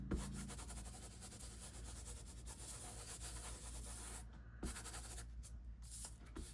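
Ink rubbed by hand over the top of stamped paper, a soft, continuous scratchy rubbing that carries on steadily, close and fairly quiet, with a brief pause near the end.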